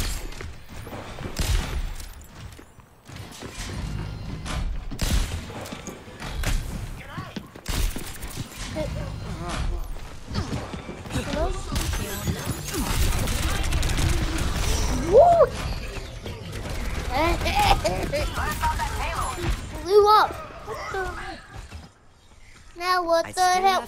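Overwatch 2 gunfire and ability effects form a dense, busy stream of shots, impacts and crashes, with character voices and players talking throughout.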